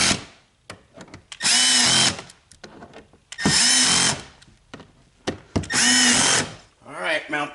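Cordless power drill driving screws to mount Volvo S90/V90 mud flaps, three bursts of high whirring about a second each, separated by short clicks and pauses.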